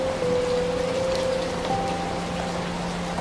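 Steady rain falls at night, a dense, even hiss of drops continuing without pause, with a soft sustained tone faintly underneath.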